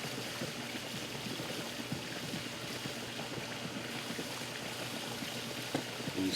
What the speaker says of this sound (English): See if it leaks any more now that I'm putting water in it.